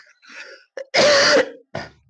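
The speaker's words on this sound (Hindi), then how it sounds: "सॉरी दोस्त, खांसी हो रखा है" A man coughs and clears his throat at close range, a few short rasping bursts followed by one longer, harsh throat-clearing effort, with brief silences between them.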